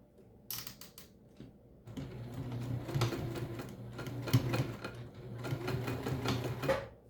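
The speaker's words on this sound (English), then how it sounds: "So we're lining up these edges together and sew them down at your required seam allowance." A sewing machine stitches the fabric edges of a mini backpack, whirring in close rapid bursts with a brief pause near the start, then a steady run of chattering needle strokes.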